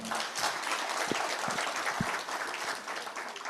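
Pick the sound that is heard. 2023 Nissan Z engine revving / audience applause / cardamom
audience applause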